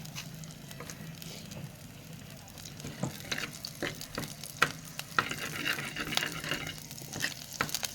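Fenugreek seeds sizzle and crackle in hot oil, with scattered sharp pops and occasional stirring scrapes, steady and close, no voices.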